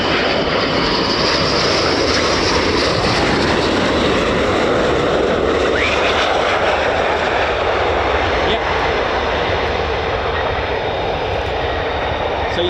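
An F-15 fighter jet taxiing toward a hot pit refuel at RAF Lakenheath makes a loud, sustained engine roar with a steady whine running through it, constant throughout.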